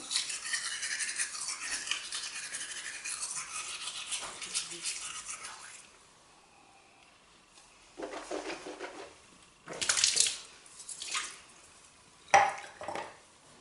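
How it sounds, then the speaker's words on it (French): Toothbrush scrubbing teeth with toothpaste, a steady bristly brushing for several seconds, then quieter with a few short louder scrubbing bursts near the end. "au fur et à mesure qu'on se brosse les dents"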